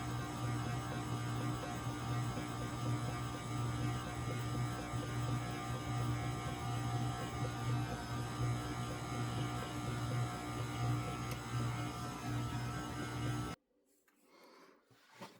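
A stand mixer kneads whole wheat sandwich bread dough with a steady, droning motor hum close by. The hum cuts off abruptly just before the end.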